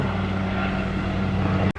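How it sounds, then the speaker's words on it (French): A steady low rotor drone of a helicopter passing overhead, loud and continuous, cutting off abruptly at the end. "Ça, c'est un hélicoptère encore"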